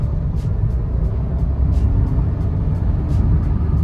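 Hyundai i20 diesel car accelerating, heard from inside as a loud, steady low engine and road rumble with faint periodic ticks, no speech.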